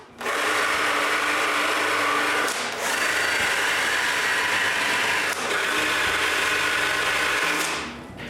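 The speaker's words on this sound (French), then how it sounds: "je marque l'endroit où je vais percer pour y mettre des aimants puis je perce des trous" A drill boring holes into a wooden hand-tool holder to seat magnets, a loud, steady whine in three long runs separated by brief pauses, ending as it spins down.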